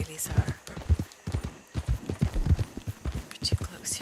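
Horse hooves clip-clop in a steady walking rhythm in Red Dead Redemption 2 Online, close and clear, with someone talking quietly over the footfalls.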